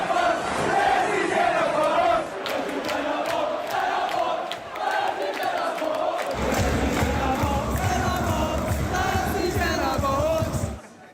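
A football crowd in Scotland or Ireland chants a song about the Queen's death: a loud, sustained mass of voices singing together, with the chant swelling and carrying on steadily to the end.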